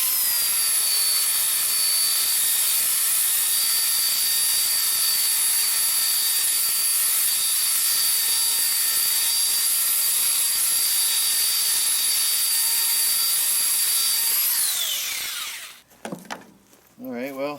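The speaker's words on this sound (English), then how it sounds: "I started that out with a hand planer I'm trying out and reviewing, and then I finished it with the belt sander" A power tool works wood continuously at close range, a hand planer followed by a belt sander, with strong tonal whine holding steady for about fifteen seconds before spinning down and stopping, then brief softer handling sounds.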